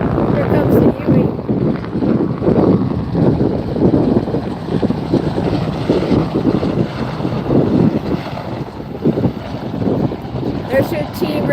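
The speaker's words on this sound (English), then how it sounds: "here comes the Huey." Bell UH-1 Huey helicopter flying past at the 2024 Wings Over Muskego airshow, a loud, steady rotor and engine roar with continuous low throbbing and wind buffeting across the whole stretch.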